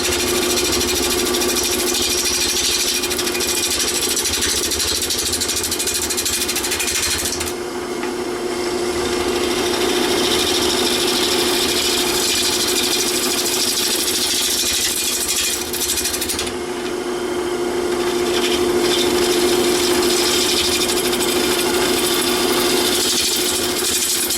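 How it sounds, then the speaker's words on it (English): A gouge cuts a wet wood bowl blank spinning on a lathe, giving a loud, continuous shearing roar over the steady hum of the motor, with the cutting noise briefly easing and then returning. "Turn the gouge so it starts to engage and pull it towards you."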